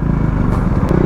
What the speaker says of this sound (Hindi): आगे चार बाइक चल रही है।